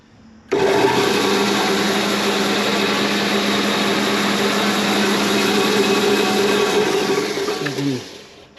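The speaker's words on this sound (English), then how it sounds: "And we set the sander up" An electric sander in a workshop switches on and runs at a steady, loud whine with a constant hum, then spins down at the end.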